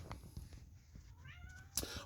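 A female house cat meows indoors, one short rising call at close range, with a faint voice briefly audible in the background.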